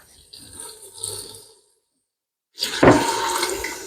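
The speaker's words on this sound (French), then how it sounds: "Vas-y, vas-y, mets tout le bouillon maintenant." Liquid broth pours and splashes into a pan holding a honey pork roast, a gurgling stream, then a pause of silence before a louder, fuller rush of pouring.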